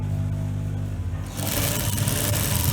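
Sewing machine stitching a zipper onto a blouse, a steady motor hum that ramps up midway into a faster, louder, continuous run of stitching, with no talking.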